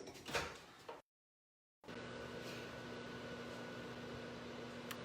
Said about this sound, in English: I'm going to melt it probably 20 seconds in the microwave.